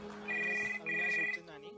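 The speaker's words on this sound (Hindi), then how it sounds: "जब घर का लैंडलाइन बजा।" A home landline telephone rings in two electronic bursts with a short gap between them, set over a soft tonal background, followed by a brief voice at the end.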